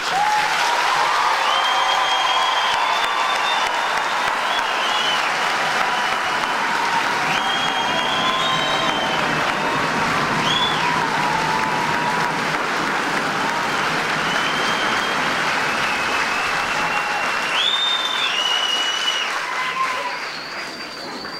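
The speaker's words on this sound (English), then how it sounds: "please join me in a round of applause for the nation's newest Army soldiers" A large audience at an Army soldier graduation ceremony applauds, a loud, dense, sustained clapping that holds steady for about twenty seconds with a few whistles riding on top, then begins to ease off at the very end.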